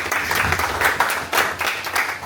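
Applause from an audience at a diaspora advisory committee inauguration in Brussels, honouring an ambassador: steady, dense clapping from a crowd in a hall, sustained throughout with slight surges and no voices over it.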